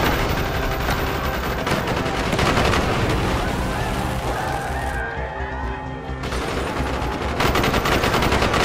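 Dense covering gunfire in the Call of Duty: Black Ops street fight, continuous loud rapid bursts of rifle and machine-gun fire mixed with crashes, filling the whole stretch without pause.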